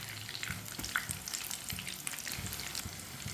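Brinjal slices fry in a pan with a steady, close crackling sizzle, sharp spatters and light stirring clicks running throughout, with no voices.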